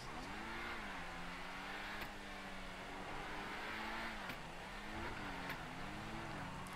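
A video game sports car, the Infernus Classic in GTA Online, drones steadily and loudly, its engine pitch climbing and dropping through several gear shifts, with no voices.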